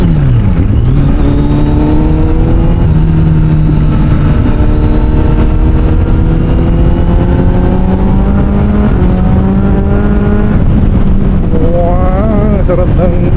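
A Kawasaki Z900SE motorcycle is ridden on a wet road, its engine loud and close, droning and rising in pitch through the gears, with constant wind rush over it.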